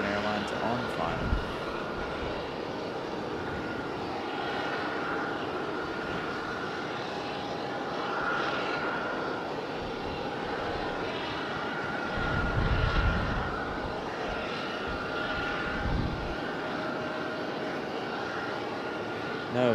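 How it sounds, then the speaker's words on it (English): An American Airlines airliner on final approach to Raleigh-Durham International Airport gives a steady, moderate jet rumble that holds through the whole stretch, swelling slightly near the end. "Because we do have American Airlines on final."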